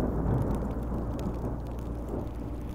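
Rain and rumbling thunder in the Minecraft Story Mode video game, a dense, steady roar of downpour with low rolling rumble, loud and unbroken.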